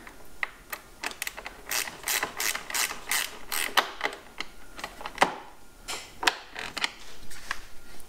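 A gear wrench ratchets on a bolt of a John Deere compact tractor's air filter bracket: rapid bursts of crisp metallic clicking, close and loud, in uneven strokes with short pauses.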